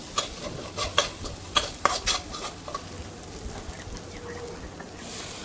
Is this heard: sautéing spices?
yes